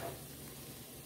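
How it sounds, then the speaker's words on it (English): Onions sizzling in masala in a pan for chicken rice pulao, a faint, steady frying hiss over a brief moment. "It's already sizzling, so I am going to add the onions here."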